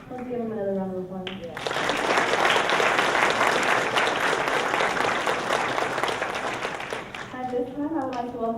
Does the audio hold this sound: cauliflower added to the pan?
no